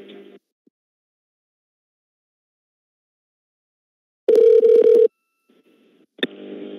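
Telephone tones on a redialed prank call: a short tone at the start, then a loud steady tone burst for about a second after a long silence, followed by a sharp click and a further tone.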